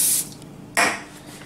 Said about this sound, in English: pan's already warm, spray it